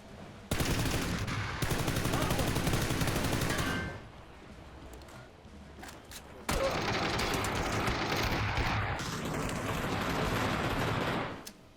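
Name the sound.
gunfire shooting car tires in the video game PUBG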